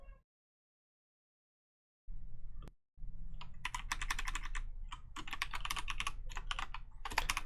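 Rapid clicking keystrokes on a computer keyboard come in quick bursts after a brief silence, close and fairly quiet, with no talk.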